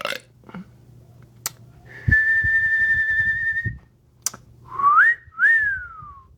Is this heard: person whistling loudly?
yes